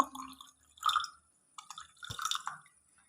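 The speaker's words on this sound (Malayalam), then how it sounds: "ഇനി നമ്മളത് അതിൻ്റെ ലായനി ഗ്ലാസ്സിലേക്ക് ഒഴിക്കുകയാണ്" A blended drink mixture poured into a glass in a few short bursts of liquid splashing and dripping, close and separated by brief silences.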